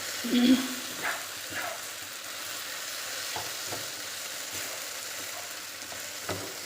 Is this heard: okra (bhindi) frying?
yes